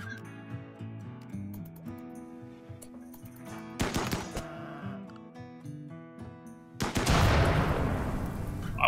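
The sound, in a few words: gunfire in the video game RimWorld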